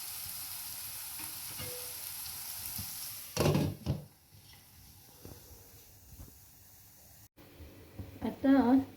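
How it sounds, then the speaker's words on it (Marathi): Green peas sautéing in a pan for Maharashtrian vangyache bharit (baingan bharta), a soft steady sizzle and hiss with brief louder stirring scrapes around the middle and a short burst near the end. "हे मटार पण व्यवस्थित परतून घेऊ."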